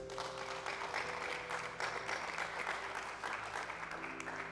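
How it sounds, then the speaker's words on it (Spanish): A congregation claps for God during a sermon by Pastor Juan Carlos Harrigan, a dense, continuous round of applause with a sustained musical tone underneath. "Alguien denle un aplauso a Dios"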